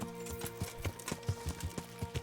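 Horse hooves in Kingdom Come: Deliverance, a steady clip-clop of regular hoof beats on the ground, moderately close, with no talking.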